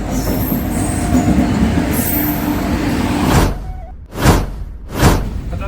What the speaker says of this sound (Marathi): ये देखो भाई, अपनी ट्रेन आ चुकी है।